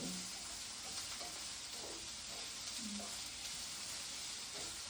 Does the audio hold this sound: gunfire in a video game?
no